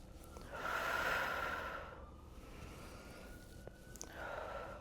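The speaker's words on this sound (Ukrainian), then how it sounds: "Вдих, видих." Heavy breathing during a home back and arm strengthening workout, one long audible breath in and a shorter breath out, close and fairly faint.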